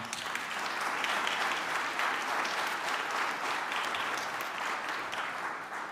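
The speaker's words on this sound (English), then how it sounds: "Give them a round of applause." An audience applauds steadily at moderate volume, a continuous wash of many hands clapping with no voices on top.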